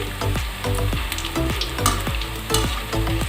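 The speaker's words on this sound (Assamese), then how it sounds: "দেখিছে এনেকৈ 2 মিনিট সময় মই এনেকৈ ফ্ৰাই কৰি ল'ম।" Sweet boondi fries in hot oil as it is stirred, a loud close sizzle with bubbling crackles and repeated scraping strokes of a spoon through the pan.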